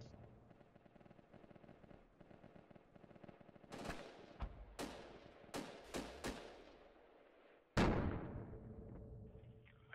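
Gunfire in Battlefield 2's Project Reality mod: sparse crackling shots at first, then sharp, loud bursts of automatic fire and single cracks, close and echoing, over a low background rumble.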